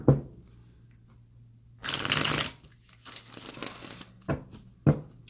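A deck of tarot cards is shuffled with a crisp riffle burst, then a second rustling shuffle, followed by a few sharp taps as the cards are squared, close and with no talk.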